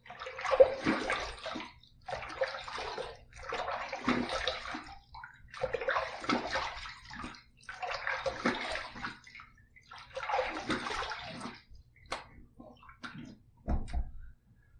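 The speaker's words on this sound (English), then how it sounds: "Let's rinse." Tap water runs in bursts during rinsing after a shave, five or six separate splashing gushes of a couple of seconds each with short gaps, close by, ending with a few small knocks.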